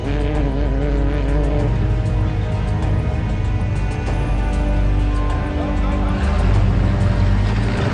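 Racing motorcycles at the North West 200 road race roar past continuously and loudly, their engine notes rising and falling through gear changes over the whole stretch.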